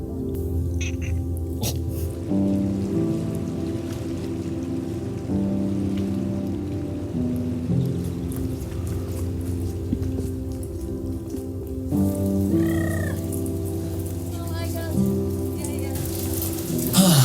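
Steady patter of rain falling on a surface at Sakurajima, continuous and fairly close, with a low hum underneath and no talking.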